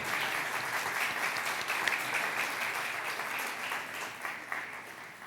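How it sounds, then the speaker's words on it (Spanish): A church congregation applauds women during a sermon, dense steady clapping holding evenly throughout at moderate distance, with no voices over it. "un aplauso para las mujeres"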